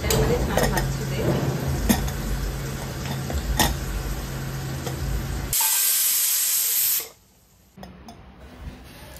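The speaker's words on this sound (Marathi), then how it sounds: "त्याला आपण झाकण लावून 2 शिट्ट्या करून घेऊया." Pressure cooker on the stove cooking prawn rice (kolambi bhaat), a loud steady hiss of steam with clinks of utensils, then a sharp bright whistle burst that cuts off into near silence.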